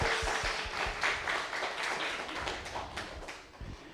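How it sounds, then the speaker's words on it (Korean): A church congregation claps to welcome guests at an evangelism festival, with scattered, fairly faint and somewhat distant applause that thins out toward the end, alongside a few sharper taps. "여러분 박수로 환영해 주시면 감사하겠습니다"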